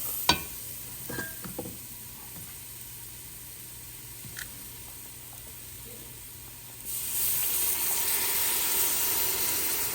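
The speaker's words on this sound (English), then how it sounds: "Then we're gonna add in our milk." Milk poured into a hot pan with garlic brings a broad hiss of sizzling that rises suddenly after a stretch of quiet clinks and stays steady to the end.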